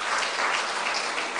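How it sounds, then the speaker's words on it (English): A room full of summit attendees claps steadily at a leadership event in India, a dense, even wash of applause that carries on without a break. "you can clap for yourselves, okay?"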